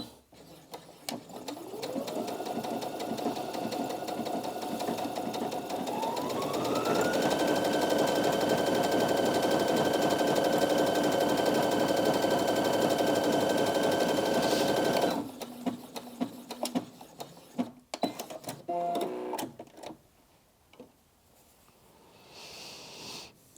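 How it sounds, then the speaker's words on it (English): A Brother Innov-is M380D sewing and embroidery machine runs a triple straight stitch on stretchy fabric, its steady rapid whir speeding up and holding close and loud for about fifteen seconds before stopping, followed by scattered clicks and handling noises. "let's try the triple straight stitch and see what we get with that"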